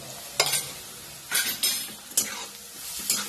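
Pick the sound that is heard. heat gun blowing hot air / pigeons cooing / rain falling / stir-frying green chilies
stir-frying green chilies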